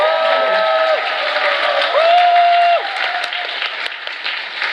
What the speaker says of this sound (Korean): 박수 끊이면 안 될 것 같아요.